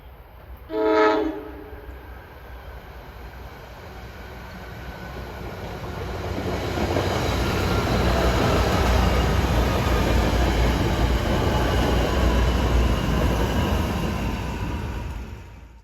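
An NJ Transit train, number 428 from Gladstone to Hoboken, sounds a short horn blast on approach to Mountain Station, then rumbles in and passes with a swelling, sustained roar of wheels and cars.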